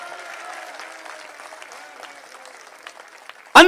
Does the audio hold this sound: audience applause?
yes